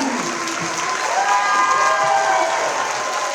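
An audience at a film premiere red carpet and Q&A gives a round of applause for the Italian embassy. The clapping is continuous and fairly loud, with a few cheers mixed in.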